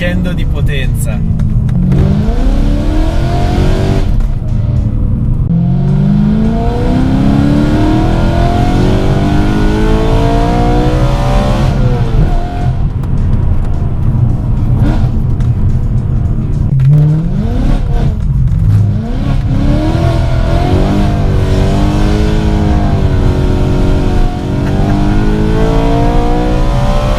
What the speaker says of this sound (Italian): Questo motore è un crescendo di potenza.